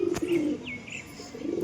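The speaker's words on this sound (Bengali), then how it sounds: "গিরিবাজ লাইনের কবুতর।" A Giribaz line pigeon, a male with a slight cold, gives a soft low coo, with a thin higher chirp briefly overhead, fairly close in a quiet setting.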